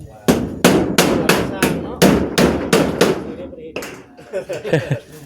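Hammer blows driving nails into a house roof during roofing work: eight loud, evenly spaced close strikes, then a pause and quieter scattered knocking with faint talk at the end.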